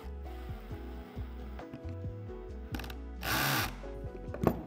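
A grounding screw is turned with light torque on a 3D printer converted into a wire EDM machine, giving close, faint, scattered mechanical clicks and ticks with a short rougher burst near the end, with no talking.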